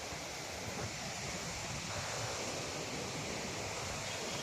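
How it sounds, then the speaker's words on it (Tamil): Water pours over a dam at Valparai, making a steady, unbroken rushing roar. The sound is broadband and fairly soft, with no voices over it. "தண்ணி எப்படி ஊற்றுது பார்த்தீங்களா?"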